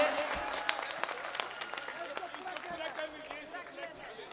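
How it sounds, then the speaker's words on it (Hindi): Listeners at a poetry gathering clap to welcome a poet to the microphone, steady applause at moderate distance with scattered sharper claps and voices underneath. "जोरदार तालियों से इस्तकबाल कीजिए"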